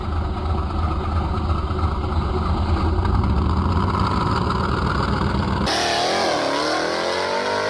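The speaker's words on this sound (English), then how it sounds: "Hellcat to a quarter mile run. Come on, Hellcat. Warm up them tires." A Dodge Hellcat muscle car revs hard and accelerates on a quarter-mile drag strip, its loud, close engine roaring steadily before cutting off sharply into a rising, fading whine.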